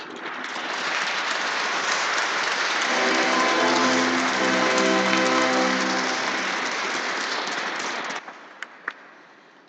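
A congregation at Sunday Mass in St Martin d'Esquermes church breaks into sustained, reverberant applause, swelling and then fading out with a few final claps.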